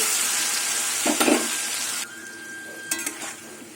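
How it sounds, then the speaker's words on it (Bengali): Potatoes fry in oil in a covered pan with a loud, continuous sizzle. A couple of brief utensil clinks break in, and then the sizzle drops to a quieter hiss. "এবার আলুটা ভেজে নেব"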